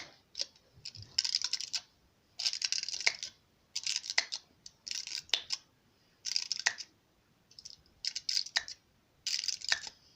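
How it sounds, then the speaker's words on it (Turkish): Pen tip repeatedly punching holes in aluminium foil wrapped over a flashlight, heard as bursts of crisp crinkling and sharp crackles in quick clusters separated by short pauses, close up with no talking. "bir kalem yardımıyla buralara delik açıyoruz."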